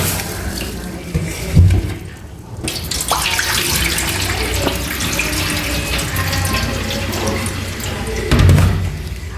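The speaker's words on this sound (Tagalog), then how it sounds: "hugasan ko lang tong bigas" Rice grains being washed by hand under running tap water in a sink, a steady continuous rush of water with brief louder splashes near the start and end.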